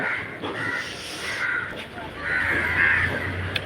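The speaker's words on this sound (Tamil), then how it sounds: "இந்த கடைகளில் வடைகள்லாம் போட்டாங்கன்னா இந்த காக்கைகளுக்கு வைப்பாங்க அதுதான் அந்த காக்கைகள்லாம் சேர்ந்து சாப்பிட்டுட்டு" Crows at a roadside tea shop give a few harsh caws, moderately close, over a steady outdoor background.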